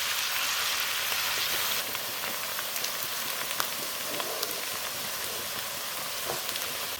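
Onions fry toward brown in a pan of oil for a chicken liver and gizzard fry, giving a dense, constant hiss that sounds almost like rain, with a few faint stirring ticks and no voices.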